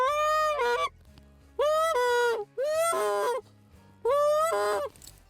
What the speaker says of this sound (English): Maybe sounds more like a sick duck than a goose or anything like that.